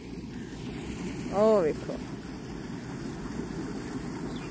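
Water rushes steadily through a village canal, a constant outdoor wash mixed with wind buffeting the microphone. Someone briefly speaks partway through.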